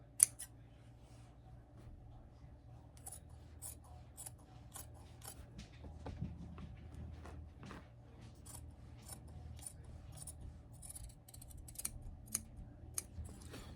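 Scissors snip through fabric while cutting pieces for a patchwork hoodie, a steady run of quiet, crisp clicks close by with no talking.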